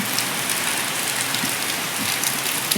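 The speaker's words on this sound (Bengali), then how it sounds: "দেখেছ ঝমঝম করে বৃষ্টি ও কতদিনের অপেক্ষার ফল বৃষ্টি বৃষ্টি পড়ছে দেখেছ" Heavy rain pours steadily outside onto surfaces, a dense, even, continuous hiss of drops heard close, with no voices.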